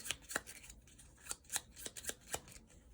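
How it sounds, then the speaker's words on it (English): Playing cards for the Tiny Epic Tactics board game are shuffled by hand, a quiet irregular series of sharp papery snaps and flicks, about a dozen in under three seconds, close but faint. "shuffle them up"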